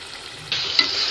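Mutton added to hot oil and masala sets off a sudden loud, steady sizzle that keeps frying after a quiet start, with a brief stir or splash near the middle.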